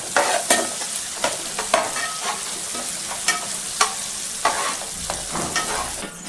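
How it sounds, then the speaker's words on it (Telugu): Green chillies, onion pieces and curry leaves frying in oil for a tuna fish curry, steady sizzle broken by repeated scraping strokes of a stirring spoon against the pan, close and without talk. "ఈ పచ్చిమిరపకాయలు ఈ ఉల్లిపాయ ముక్కలు ఈ కరేపాకు అంతా బాగా ఆగాలి నూనెలో మగ్గాలండి"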